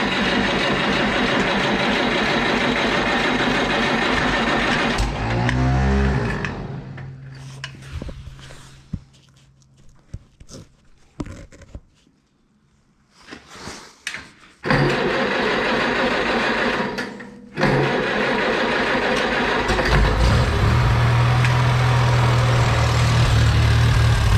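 The engine of a Farmall Cub tractor, whose choke lever will not stay out, runs steady, then stumbles and sputters into uneven coughs and near-silence when the choke is released. It catches again and returns to a loud, rough idle.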